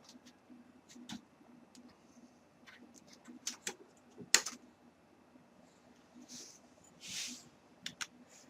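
A computer keyboard is typed on in scattered bursts of sharp key clicks, some louder and some soft, with irregular pauses between them in a quiet room.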